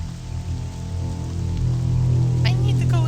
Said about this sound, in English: I need to go inside or else I will get sick if I stay in the rain too long.